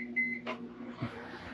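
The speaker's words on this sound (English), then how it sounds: "I'm gonna turn on this microwave." A microwave oven starts up inside an RV fifth wheel: a beep, a click, then a low steady hum with air conditioners running in the background.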